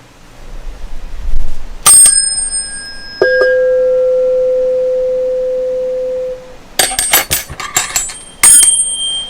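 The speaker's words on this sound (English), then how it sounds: "I've got middle C here" Tuning fork pitched at middle C, struck and ringing as a single steady pure tone that slowly fades over several seconds, with bright clinks of striking and handling before and after.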